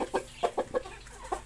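Rooster clucking in a series of short, close clucks in quick succession, a few beats apart, with no talking.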